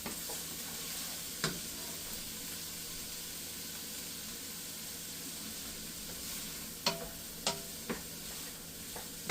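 Food sizzles and hisses steadily in a pot while cooking down for a beef stew, with a few sharp clicks of a spoon or pot, close and continuous.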